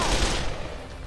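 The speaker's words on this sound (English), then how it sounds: "Mi się ciężko strzela, nie?" Gunfire in the video game Dead Island comes as a loud, close burst of overlapping shots that quickly decays within about a second.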